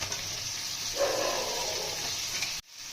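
Rita river fish, a Ganges catch for curry, sizzles in hot oil in a pan, a steady bright hiss that swells slightly midway before cutting off abruptly near the end.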